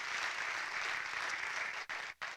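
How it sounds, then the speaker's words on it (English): Audience applause at an introductory talk on medical cannabis: steady, moderately distant clapping from a roomful of people that breaks off abruptly near the end, with a couple of brief gaps. "I'd like to give a special round of applause to Steve"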